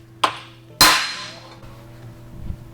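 A hammer whacks a bent metal part that has a bump in it, in a welding shop setting: a light knock followed by a much louder, ringing metallic strike that decays slowly, then quieter clatter.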